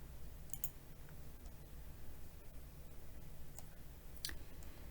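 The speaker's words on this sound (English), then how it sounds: "click the Inventory page" Faint, sharp computer mouse clicks while using CollectiveAccess software, a few isolated ticks spaced across a quiet hum, with no talking.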